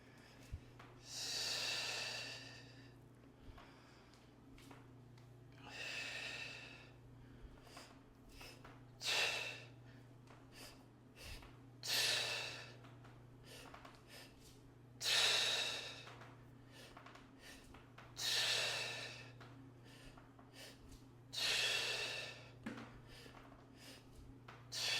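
Heavy rhythmic breathing during a moderate-weight circuit workout, long forceful exhales and inhales repeating roughly every few seconds, close and breathy over a low steady hum, with no talking.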